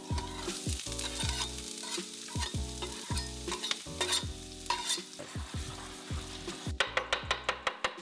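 Crackling sizzle of oil heating in a pan, mixed with rhythmic low thumps and clatter, ending in a series of sharp regular taps.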